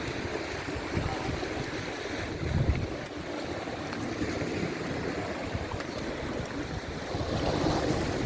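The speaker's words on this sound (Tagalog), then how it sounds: "Lakas ng alon, no?" Strong ocean waves surge and wash continuously at the Maragondon Sanctuary shore, with gusty wind buffeting the microphone and a low, rumbling swell, no voices.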